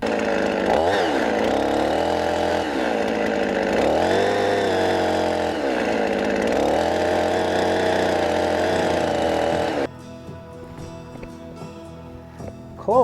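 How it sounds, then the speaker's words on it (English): A loud chainsaw engine revs and bogs repeatedly while cutting grooves into wood for barn stairs, dropping to a quieter idle near the end. "make your grooves slightly deeper with the chainsaw"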